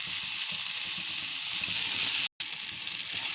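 Cluster beans (guar) roasting in a pan give a steady, dense sizzle throughout, close and even, with a brief cut of silence partway.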